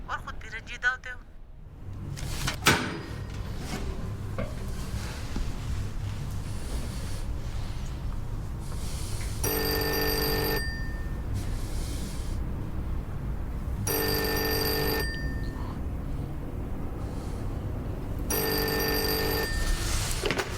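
A telephone rings in three separate electronic bursts about four seconds apart, each lasting around a second, over a dull room background with a brief knock early on.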